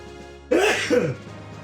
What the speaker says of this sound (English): Oh, sorry guys, I needed a sneeze.